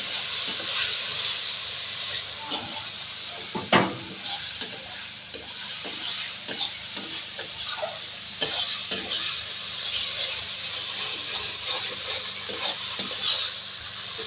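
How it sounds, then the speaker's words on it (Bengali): Spice paste with a splash of water being sautéed and stirred in a pan for a rohu fish curry, producing a constant hissing sizzle and repeated scraping strokes, close up and without talk. "একটু জল দিয়ে মশলাটা কষে নেবো আরেকটু।"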